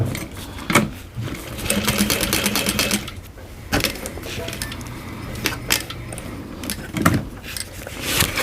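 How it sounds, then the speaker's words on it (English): A sewing machine back stitches on a bowler bag, running in short, fast mechanical bursts with brief stops and clicks in between, close and clear. "I just do a little back stitch on mine."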